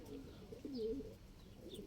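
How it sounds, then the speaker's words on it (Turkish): A pigeon gives a short, soft coo close by, with faint chirps in the background. "Kuşlar bunlar."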